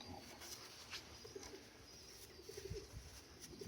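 Soft, low coos from young Mikołajewski pigeons repeat quietly in the background, faint and somewhat distant, with no talking.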